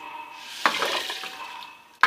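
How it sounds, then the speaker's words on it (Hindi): Moong dal lentils go into a pressure cooker already holding chili flakes and spices, giving a soft stirring and rattling against the pot with a sharper clink near the start and another at the very end. "अब दाल भी डाल देते हैं"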